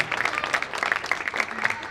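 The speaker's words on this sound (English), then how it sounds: "a huge round of applause to you" Applause from a crowd gathered at a Republic Day event in a park for a retired Naib Subedar, a brisk patter of many hands clapping at moderate distance, fairly soft and continuous for two seconds.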